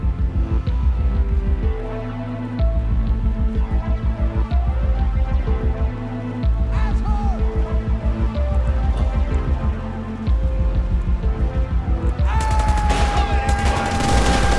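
Steady, rapid automatic gunfire rattles on in the GTA 5 zombie survival apocalypse mode, loud and evenly pulsed, with brief pauses every few seconds and a thin tone creeping in near the end.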